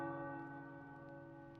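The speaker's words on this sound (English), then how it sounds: "The tower bells are ringing." A tower bell in the video game Marvel's Midnight Suns rings once, a deep sustained tone with long humming overtones, quiet and slowly decaying.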